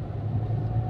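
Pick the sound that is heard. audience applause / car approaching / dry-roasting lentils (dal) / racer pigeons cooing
car approaching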